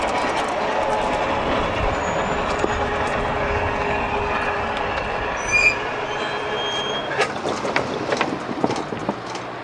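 A CSX freight train rumbles steadily past up close, with faint squeals and clanks from the wheels and no talk.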